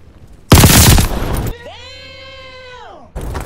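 Gunfire in the online shooter Call of Duty Vanguard cracks out in a loud burst, followed by a rising, sustained tonal whine before another sharp burst of shots at the end.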